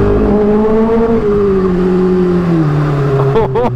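A brand-new 2024 Kawasaki ZX6R motorcycle engine revs close and loud, its tone sliding down steadily before a quick burst of sharp throttle blips at the end.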